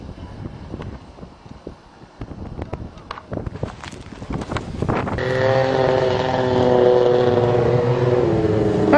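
A motorcycle-powered dune buggy drives through snow in winter. Crunching and wind buffeting come first, then the engine rises into a loud, steady drone close by.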